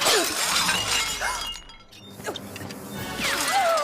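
Glass display case shattering inside a museum in an animated children's detective show, with repeated crashing breaks and tinkling shards spread across the moment, loud and busy with no talking.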